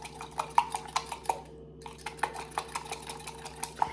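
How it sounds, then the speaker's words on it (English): Egg being whisked quickly in a bowl, a fast run of light metallic clinks and taps against the bowl, close and steady with a short pause midway. "I just have my egg here. I'm gonna go ahead and crack that. Go ahead and whisk that up real quick."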